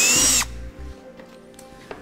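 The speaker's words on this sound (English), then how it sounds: "drill our two holes out" A power drill whines loudly for about half a second while drilling a hole in metal on a 2008 Toyota Tundra, then stops; a few faint clicks and taps follow in the quiet.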